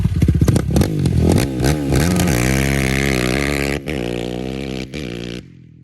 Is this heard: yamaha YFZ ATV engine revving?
yes